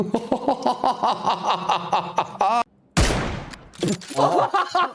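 Rapid video game gunfire in quick repeated bursts, loud and close, with laughter and chatter mixed in and a brief silent gap before a noisy crash of sound.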